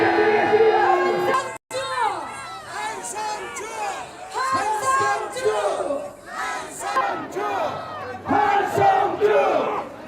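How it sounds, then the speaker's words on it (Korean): A rally crowd at a Korean flag demonstration in Jinju roars and cheers, a loud mass of shouting voices filling the whole span after a brief cut near the start, with chants rising and falling throughout. "뜨거운 박수 부탁드리겠습니다"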